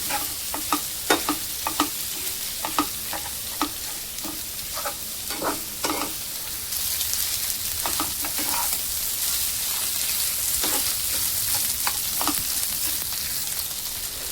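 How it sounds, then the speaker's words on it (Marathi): Potatoes with a little coriander frying in a pan while being mixed, a steady sizzle under repeated scraping and tapping stirring strokes, close and fairly loud. "आणि बटाटे टाकून घेऊया। मिक्स करून घेऊया आता।"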